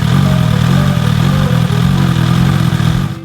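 A Suzuki GSX-S1000 naked sport motorcycle engine runs steadily close by, a loud, even low throb with a slight rise in revs, fading briefly at the end.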